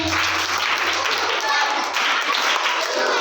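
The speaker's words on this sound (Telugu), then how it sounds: "ఇది సూపర్ క్లాప్స్ నిన్న నేర్పించిన కదా" A group of children claps the 'super claps' rhythm together, a fast, dense run of sharp claps that holds steady and loud for a few seconds.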